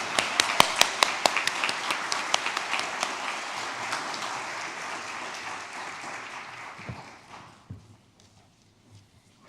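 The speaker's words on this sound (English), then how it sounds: "Let's just take a moment and give Leanne King a huge applause" A church congregation claps for a service-day leader, crisp individual claps standing out over a full wash of applause that gradually thins and dies away to scattered taps.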